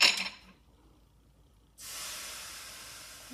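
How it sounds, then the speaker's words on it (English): Water from a kitchen tap spraying into a blender for rinsing, a short hiss at the start, a pause of near silence, then a steady rushing stream running to the end. "I'm going to just rinse my blender."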